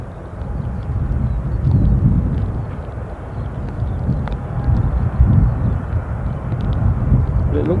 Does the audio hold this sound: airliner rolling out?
yes